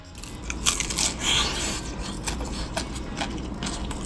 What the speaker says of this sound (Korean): 딱 처음 씹었을 때 낙엽이 부서지듯이 얇은 바삭함 있잖아요